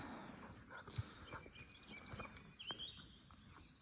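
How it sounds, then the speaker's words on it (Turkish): Birds chirp and call in the background of an outdoor scene, with a thin high whistling line and scattered low knocks and rustles. "Kuş sesleri"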